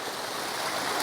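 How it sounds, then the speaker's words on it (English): A small waterfall in a constructed drainage water feature, dropping over a roughly ten-inch rock step, rushes in a steady, broad splashing hiss heard close up with no voices. "This is a really cool waterfall."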